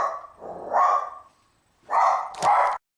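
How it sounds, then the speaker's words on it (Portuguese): A dog barks outdoors in bursts, several close, loud barks in two clusters separated by a brief quiet gap, with no talking. "o cachorro começou a latir bem no momento do vídeo"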